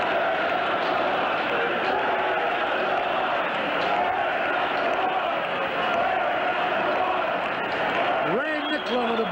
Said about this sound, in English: Now the entire crowd starts the chant.